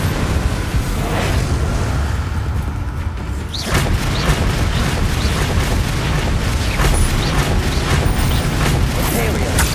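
A fire spell is cast in Hogwarts Legacy, giving a loud, sustained roaring blast of flame with booming bursts that runs throughout amid dense game effects.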